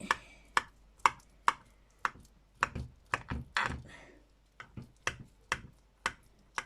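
A knife cuts through a baked cauliflower and smoked salmon lasagne, producing a steady run of crisp, sharp taps as the blade strikes the dish, close and distinct, with no talking.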